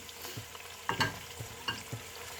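Mutton with chopped tomato frying over a low flame for aloo gosht curry, a soft steady sizzle broken by a few clinking stirs of a spoon against the pot.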